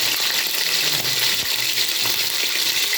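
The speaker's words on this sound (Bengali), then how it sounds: "এখন আমি দিয়ে দেবো এই যে বেটে রাখা মশলাগুলো" Ground spice paste hits hot oil already holding bay leaf, cardamom, cinnamon, cloves and peppercorns, giving a steady, dense sizzle that runs close and loud throughout, with no talking.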